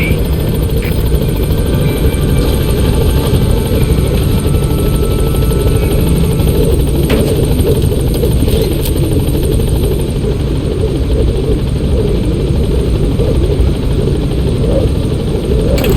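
Steady, loud rotor drone of the B-Quad support helicopter hovering over a landing zone in Metal Gear Solid V: The Phantom Pain, a constant low throbbing wash that fills the whole stretch without letting up.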